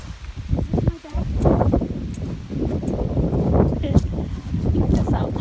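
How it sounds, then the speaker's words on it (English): Strong wind buffeting the microphone outdoors in a cemetery, a steady rushing roar with gusty surges and rustling, loud and close throughout. "The wind is so bad, it blew my bag."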